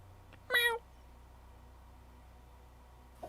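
A person imitates a cat with one short, clear, close meow in a quiet room, then silence with a faint trailing sound at the end.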